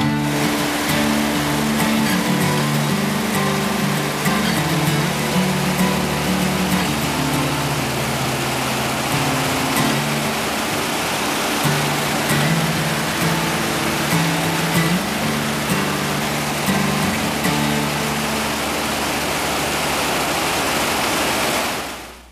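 Taughannock Falls, a broad waterfall pouring over a limestone creek bed, roars after heavy rains in a constant, loud, enveloping rush of water with no voices.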